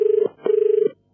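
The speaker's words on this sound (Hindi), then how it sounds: "बंटी के फोन रिंग करा।" An old-style telephone bell rings in two short trilling bursts separated by a brief pause, clear and fairly loud with nothing else behind it.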